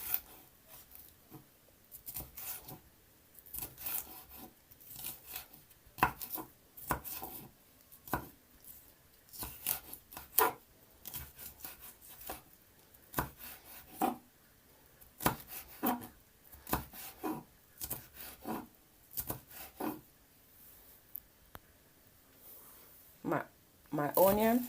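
Sweet pepper being chopped on a board for Jamaican curry chicken foot, a long run of quick, sharp knife strikes in uneven bursts, close and fairly loud, with a few soft pauses between runs.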